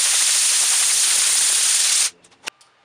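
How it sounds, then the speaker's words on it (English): An air hose blasts a steady loud hiss across a surfboard to clear dust, running for about two seconds before cutting off, followed by a few faint clicks and one short sharp burst. "Take an air hose and blow it off"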